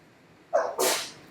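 A single sharp sneeze bursts out nearby indoors, a short intake then an explosive, breathy release fading over half a second, in an art class on drawing with a wooden pencil.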